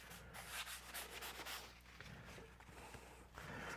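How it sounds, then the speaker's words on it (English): Charcoal rubbed onto a painted surface to bring out lines, giving a steady dry scraping and rubbing texture in repeated strokes, close and moderately quiet, with no talk. "So I'm just using some charcoal. I'm going to rub that in place"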